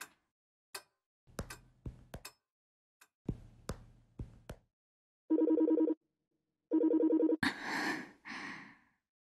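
A phone-call ringback tone in the game Colorful Stage plays in two even electronic bursts after a series of soft clicks and taps, followed by a quick breathy sound, all close and otherwise quiet.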